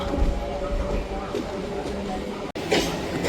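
A MEMU train pulls out of Tadepalligudem railway station, a steady rumble of wheels and carriage noise heard from on board, fairly loud and continuous with a brief cut near the end.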